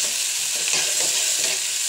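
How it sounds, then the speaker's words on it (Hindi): Chopped onions sizzle and fry in hot oil with cumin in a pot for mutton pulao, a steady close crackle with soft stirring scrapes mixed in, and no voices. "अब मैं ऐड करूँगी इसमें प्याज। इसमें ऐड कर दी है प्याज।"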